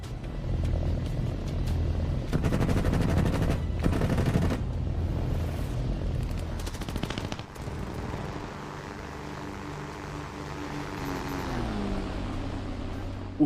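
A machine gun on a Brewster Buffalo fighter in aerial combat against Soviet MiGs fires rapid bursts over a rumbling aircraft engine, the shots coming in dense rattling clusters before the roar settles into a steady drone.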